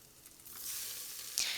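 Onions frying with ginger garlic paste in a pan for tomato rice, a soft steady sizzle that swells slightly, with a brief sharper crackle near the end, no voices.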